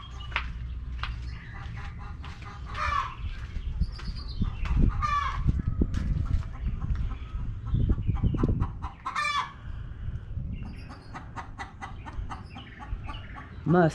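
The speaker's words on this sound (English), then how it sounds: "Sounds like I have a chicken laying." Hens cluck repeatedly in a busy coop while laying eggs, with a rooster-like call rising now and then over steady farmyard noise.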